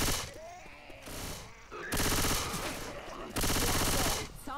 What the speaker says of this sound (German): Du schießt schon wieder auf mich.